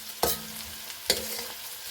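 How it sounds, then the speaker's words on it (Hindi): Onion sizzling in hot oil, with two sharp stirring clatters as a spatula moves through the pan. "प्याज को यहाँ पर हम हल्का सा फ्राई करेंगे।"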